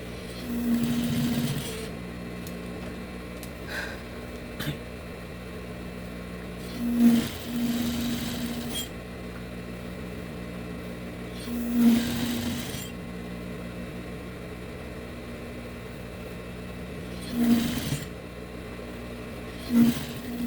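A sewing machine stitches a farmhouse-style bread basket, humming steadily at close range, with brief louder bursts of stitching every few seconds.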